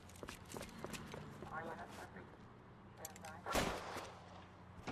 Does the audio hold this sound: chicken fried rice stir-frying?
no